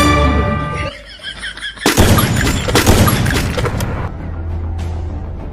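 Sniper fire and other gunfire in the Free Fire video game come as loud, dense bursts that mix with game sounds, with a steady background drone around them.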